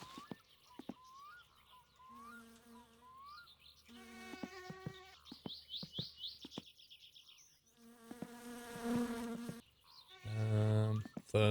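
Mosquito buzzing from a mosquito mod in the game My Summer Car, thin whining drones that rise and fall in bursts, mixed with other chirping and buzzing game sounds.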